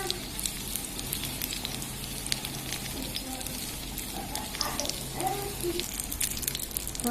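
Vanjaram fish steadily sizzling and crackling as it fries in a miniature pan, a close, continuous bed of oily spatter with small pops throughout.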